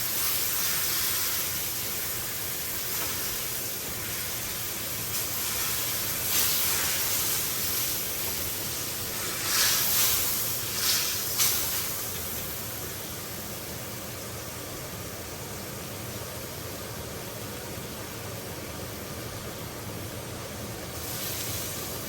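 White wine hisses and steams as it cooks down in a pan heated to 600 degrees, a loud, continuous broadband hiss with brief louder bursts around the middle, and no talking.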